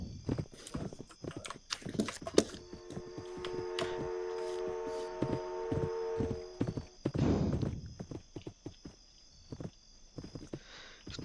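A horse in the Roblox game Westbound gallops with a steady run of clip-clop hoofbeats that carry through most of the stretch, plus a brief whinny-like burst partway through.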